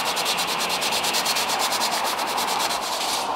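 Hand sanding of military-style paint on a Land Rover 110 body with 120-grit paper, a steady rapid rasping of even back-and-forth strokes, close and continuous.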